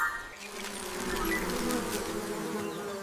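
A steady, close insect buzz hums continuously throughout, with a faint higher whine layered over it and no voices.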